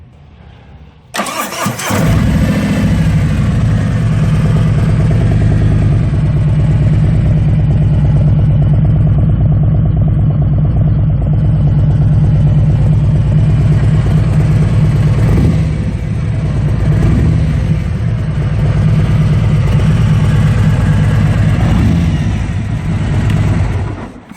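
A 2018 Harley-Davidson Road Glide starts up and then settles into a loud, deep, rumbling idle through its chrome muffler, steady and close by for a long stretch.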